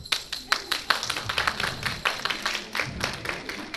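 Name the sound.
women in audience applauding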